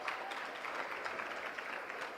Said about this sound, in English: Un fuerte aplauso por este video